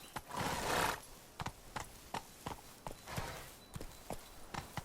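The horse Roach gallops in The Witcher 3, with rhythmic hoofbeats, a loud whinny at the start and faint game ambience beneath.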